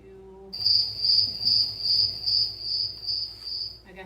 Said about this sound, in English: Yeah, actually crickets.